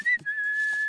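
A cartoon character whistles a long, steady, high note near the mic, broken once by a brief dip before the tone resumes and holds to the end.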